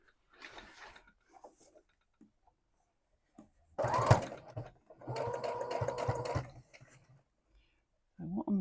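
A sewing machine stitches daisy lace onto a jeans hem in two short runs, the second a steady whirring burst of about two seconds, close by, with a person talking quietly before and after.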